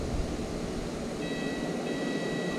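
Aerial tramway cars at Ober Gatlinburg in Gatlinburg starting to move, a steady mechanical rumble with a faint high whine rising partway through, fairly loud and continuous.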